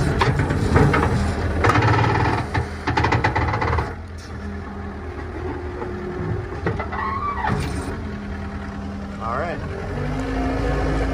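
A John Deere 328E skid steer diesel engine runs with a steady rumbling drone and mechanical clatter, close by, while someone talks over it.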